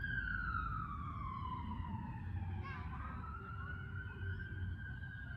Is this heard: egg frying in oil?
no